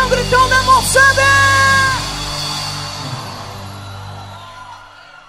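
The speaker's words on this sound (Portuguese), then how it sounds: "Cadê o gritão da moçada?" A live concert crowd at a show yells and whoops loudly, a few rhythmic bursts of shouting that swell and then slowly fade out into the hall.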